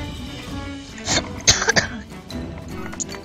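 A person who is feeling a little sick coughs a few times in quick succession, with what sounds like throat clearing. The coughs are close and fairly loud over quiet game music.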